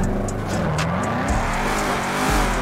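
Koenigsegg Jesko hypercar in a video game, a loud continuous engine roar with rising and falling revs and faint tire noise, close and alone without speech.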